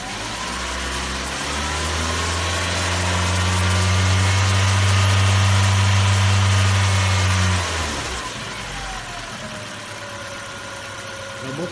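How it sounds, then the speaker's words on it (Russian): The 1.8-litre QG18DE engine in a 2006 Nissan Primera is revved and held near 3000 rpm as a loud, steady whine for several seconds, then drops back to a quieter idle. No one speaks. "Работа двигателя 3000 оборотов."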